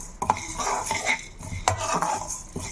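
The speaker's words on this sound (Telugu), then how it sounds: "ఇవన్నీ మనం సిమ్లో పెట్టేసుకొని మంచిగా ఫ్రై చేసుకుందాం." Fenugreek, coriander and flax seeds dry-frying on low heat in a pan, stirred with a metal spoon that scrapes and clinks against the pan in a few distinct strokes, close up and with no talking.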